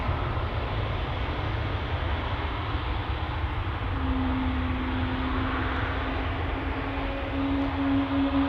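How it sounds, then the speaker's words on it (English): Embraer 175 jet airliner taking off at Amsterdam Schiphol, a steady broadband engine roar that holds level throughout, with a rising whine tone emerging partway through. "the Embraer 175 now taking off"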